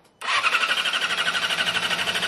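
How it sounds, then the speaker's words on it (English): A 2007 Yamaha R6 motorcycle engine cranks slowly with its fuel tank disconnected, giving a steady rhythmic whirring pulse that starts abruptly and keeps going, close and loud. "slow crank because we disconnected the gas tank"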